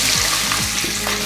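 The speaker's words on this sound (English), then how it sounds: "you can see it's starting to sizzle" Spices sizzle and crackle in hot oil over high heat for a king prawn chilli karahi, a steady close frying hiss while a spoon stirs through the pan.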